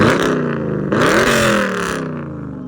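Dodge Challenger 392 Scat Pack with a 6.4L HEMI V8 and aftermarket exhaust, revving loud and close in two quick throttle blips, its deep burble rising in pitch then easing back down.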